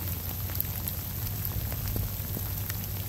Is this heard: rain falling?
yes